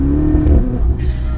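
A Ferrari 488 Spider's turbocharged engine pulls hard in fourth gear, a loud, steady, close-up roar that climbs slightly and shifts near the end.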